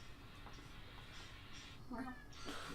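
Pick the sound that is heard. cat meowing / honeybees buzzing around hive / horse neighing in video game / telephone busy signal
cat meowing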